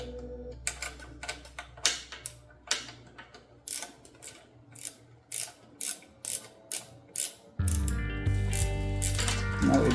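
A ratchet wrench clicks in a steady run of sharp, close ticks while motorcycle risers are installed on a Honda Fury, then a louder broadband rush of noise takes over near the end.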